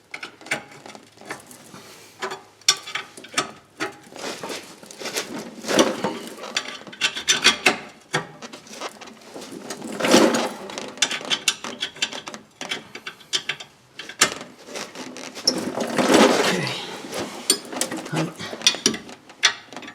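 A ratchet tightens the rear brake bolts on a 2011 Toyota Sienna, giving bursts of rapid clicking and grinding pawl noise in close, uneven spells of effort with brief pauses between them.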